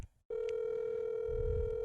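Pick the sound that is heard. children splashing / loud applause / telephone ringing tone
telephone ringing tone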